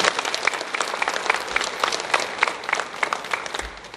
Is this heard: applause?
yes